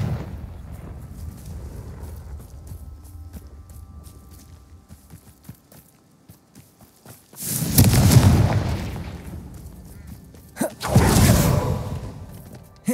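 Confringo fire spell explosions in Hogwarts Legacy, two heavy booming blasts with a rushing whoosh, separated by a few seconds after a quiet stretch of faint game ambience.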